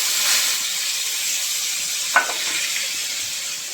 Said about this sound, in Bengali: এবার আদা রসুন আর 3-4টে লঙ্কা দিয়ে বাটা পেস্টটা দিয়ে